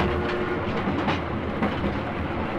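A Festiniog Railway train grinds around a tight curve on steep, winding narrow-gauge track through trees, a continuous rumbling rolling noise with faint rhythmic clatter at moderate distance.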